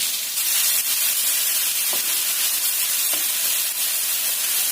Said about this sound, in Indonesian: Kemudian kita tumis bumbunya ini. Ini kita panaskan sekitar 3 sendok makan minyak.